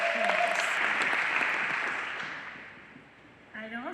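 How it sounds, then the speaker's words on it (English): Audience applause at a formal event, dense clapping that fades gradually over a few seconds before a speaker's voice comes back in at the end. "deserve a round of applause"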